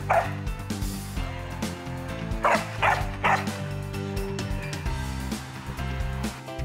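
A very vocal dog yips, whimpers and howls along with band music, giving short barks and sung, wavering cries over a steady musical backing.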